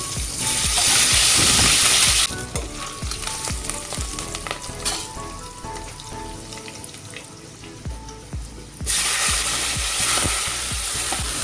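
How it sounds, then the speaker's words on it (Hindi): Onions frying in a pan of oil with asafoetida, cumin, curry leaves, green chillies and chopped ginger for mixed usal, a loud steady sizzle with stirring scrapes, hissing hardest at the start and end and quieter through the middle. "अनियन के हल्के गोल्डन होने तक इसे फ्राई कर लें।"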